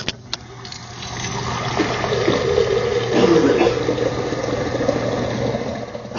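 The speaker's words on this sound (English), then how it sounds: "let's get some more water" Water is poured into a container, a gurgling, splashing rush that builds after a quiet start, peaks midway and continues steadily to the end, close and with no talking.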